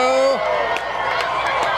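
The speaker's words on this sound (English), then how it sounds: "And the crowd goes wild." Crowd cheering and whooping erupts during a solar eclipse, a broad roar of many voices with a whistle-like tone at the start, loud and sustained over the whole moment.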